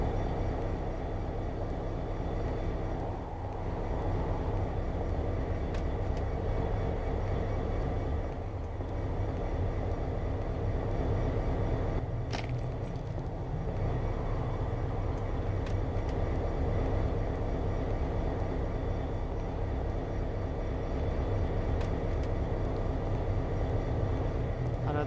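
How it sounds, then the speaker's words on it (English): A moving train inside the Concluse video game gives off a steady, heavy rumble that continues unbroken for the whole stretch, with no voices over it. "I think the train's still moving"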